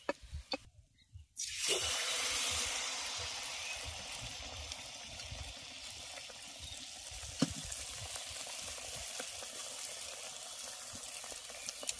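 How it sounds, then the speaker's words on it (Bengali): Steady, close sizzling of carrot malpua batter frying in hot oil, a continuous bubbling hiss that starts abruptly after a brief quiet moment and holds on without talk. "একইভাবে সমস্তগুলো ভেজে নেব।"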